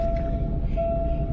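A train rolls through a railway crossing with a barrier, giving a loud, steady low rumble with a thin sustained tone held over it for the whole short moment.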